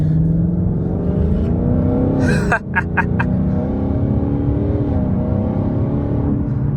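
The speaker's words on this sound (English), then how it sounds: "Paired with the Corsa Extreme, the car sounds absolutely amazing" A Ford Mustang GT S550 fitted with a Corsa Extreme exhaust and driven in sport mode gives a loud, deep engine roar that rises in pitch under acceleration, with a brief sharp break partway through, then a steady drone, heard from inside the car.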